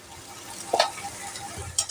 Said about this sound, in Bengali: এবার সুন্দর করে আবার নাড়াচাড়া করতে থাকবো